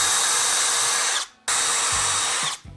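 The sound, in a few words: power drill drilling dowel holes in wood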